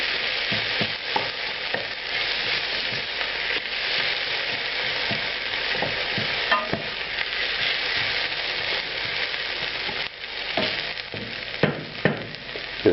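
Onions frying in a pan for a vegetarian Indian sweet potato curry, a steady close sizzle broken by frequent clicks and scrapes of stirring, alone without talk.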